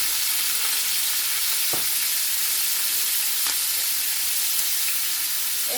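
Food fries in olive oil in a big skillet, with a loud, continuous close sizzle and hiss and a couple of soft stirring knocks, no voices.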